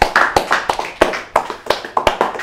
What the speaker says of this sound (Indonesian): Boleh tepuk tangan buat Ihsan dulu, boleh?